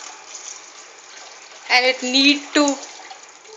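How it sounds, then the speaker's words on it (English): A full jug of water poured into a thick Punjabi kadhi pakoda curry, with brief loud splashing gushes in two bursts while a voice speaks over it. "I am adding one full jug of water into my curry once again"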